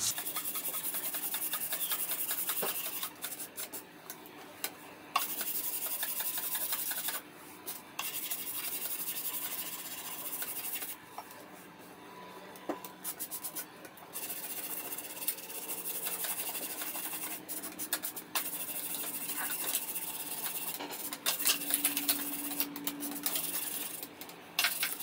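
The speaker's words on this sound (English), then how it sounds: "I've got some 600 grit and just a flat sanding block" Light hand sanding with 600 grit paper on a flat block gives soft, steady rasping strokes in a quiet room, with brief pauses between passes and no talk.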